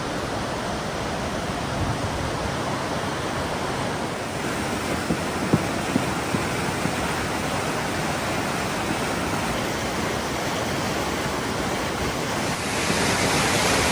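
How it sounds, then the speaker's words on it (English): A river flows past a village in the Alamut valley of Iran, a steady broadband rush of water that stays loud and constant throughout, with no voices. "right in front of me, there's a flowing river"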